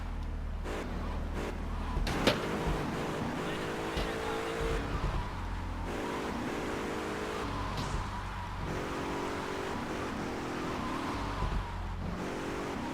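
A car engine drones steadily in the video game GTA3 as the car is driven toward the crusher, with shifting engine tones and occasional revs, at moderate level throughout.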